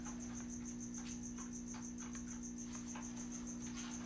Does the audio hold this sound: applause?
no